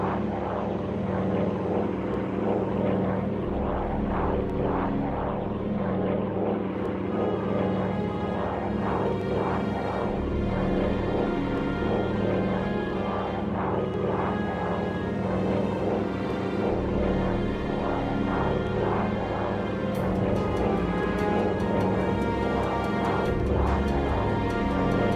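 A propeller warplane drones steadily and loudly throughout a Pacific carrier combat mission in Air Conflicts: Pacific Carriers, its engine roar constant with a dense game soundtrack layered underneath.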